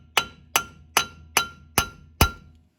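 Hammer striking a punch to drive a broken wheel stud out of a car hub: six sharp, loud metallic knocks at an even, steady pace, each ringing briefly before the next, with no voices.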